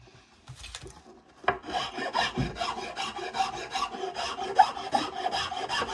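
Hand scraping and filing of wood on a violin being built from very old timber, a rhythmic series of close, raspy strokes repeating steadily after a few light scrapes, with no talk.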